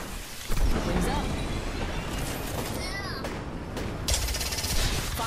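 Dense gunfire crackles through a video game shootout, with bursts and steady shots rolling almost without a break while players talk over the din.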